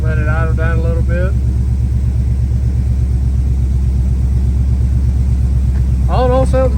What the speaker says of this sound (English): Let it idle down a little bit.